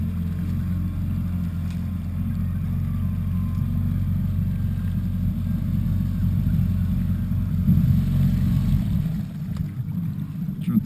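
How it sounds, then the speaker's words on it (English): Outboard motor of a small fishing boat out on the water for white bass, running steadily with a deep, close drone and wind rumble, rising slightly before the engine winds down near the end. "Shut the motor down so I can talk here a little bit."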